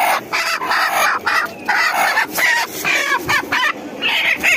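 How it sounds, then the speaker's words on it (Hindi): A desi hen clucks repeatedly in short, close bursts at a home, with a rooster-like call mixed in; loud and busy, no talking. "ये हमारे घर की मुर्गी है"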